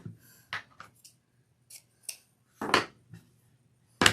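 Scissors snip ribbon while making a triple ruffle wreath on a 10-inch base: several sharp, close cuts come at irregular intervals with quiet pauses between them, and a final crisp snip lands at the end.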